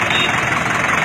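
A self-made Kartar tractor, model 90/36, idles with a continuous dense mechanical rumble and knocking chatter, loud and close with no pauses.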